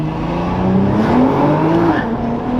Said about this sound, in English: the launch control in this car is, there's nothing, it's just so violent.